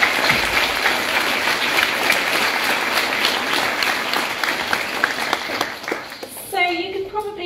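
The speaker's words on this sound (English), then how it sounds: "So if we just give them another round of applause." Audience applause for student performers at a school open evening, a dense sustained clapping from a large crowd that fades out near the end as a voice begins speaking.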